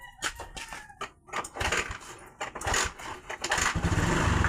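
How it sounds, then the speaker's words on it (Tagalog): A Honda Beat scooter engine kick-started, sputtering and catching in uneven bursts before settling into a louder, steady run, close by with no talk. "Yan o, andar siya sa kick. Pero sa start wala."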